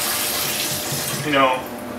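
Tap water runs into a container of rice set to soak for Korean makgeolli rice wine, a steady splashing rush that swells briefly near the end as the container fills.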